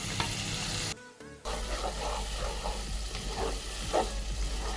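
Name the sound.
dried fish (shutki) being stir-fried in a pan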